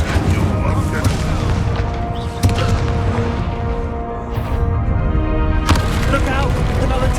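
An Incendio fire spell cast in the Hogwarts Legacy video game, heard as loud booming whooshes and crashes layered over game music, with sudden bursts and voices speaking.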